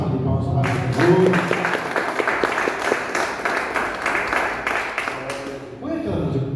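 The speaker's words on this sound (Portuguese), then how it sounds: "Uma salva de palmas para o Senhor." Church congregation applauding together in sustained, broadband clapping for several seconds, fairly loud and fading briefly near the end.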